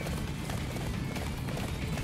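Horse hooves galloping in the Attack on Titan video game, a quick rhythmic clip-clop beating steadily and fairly close throughout.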